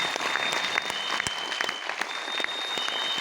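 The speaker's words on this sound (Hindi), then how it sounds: "एक बार जोरदार ताली बजाइए सर के लिए।" An audience at a DXN meeting breaks into brisk, dense applause, many hands clapping continuously at close range for a few seconds with a murmur of crowd beneath.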